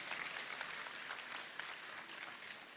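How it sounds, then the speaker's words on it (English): An awards ceremony crowd at a Ghanaian arts event applauds at a distance, a soft, steady patter of many hands that stays even for a few seconds. "you can applaud yourself"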